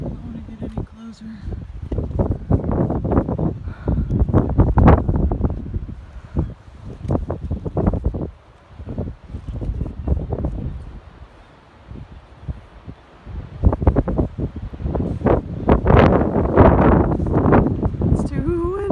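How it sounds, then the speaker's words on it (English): Strong gusts at the Cliffs of Moher buffet the microphone with loud, rumbling wind noise that surges and drops in waves, while people talk through much of it. "It's too windy."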